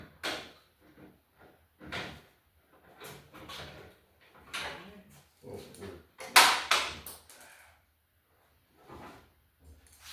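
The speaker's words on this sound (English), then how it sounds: "now you can pull the lift over so it swings the door open a little more." The door of a 1949 Willys pickup is handled in a shop, giving a series of knocks, thumps and scraping clunks at irregular intervals, with a sharp metallic bang in the middle and quiet gaps between.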